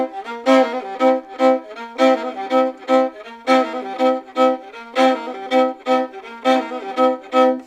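A fiddle plays a boogie woogie melody with strummed, chopped bowing, punchy rhythmic notes in a bouncing pattern with accents, close and clear with no talk.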